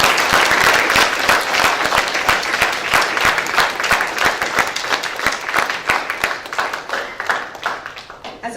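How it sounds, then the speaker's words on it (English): An audience in a room applauds veterans at an event, sustained dense clapping that holds steady for several seconds before thinning slightly toward the end. "Could I get the veterans that are here in the room to stand so that we can give you a round of applause?"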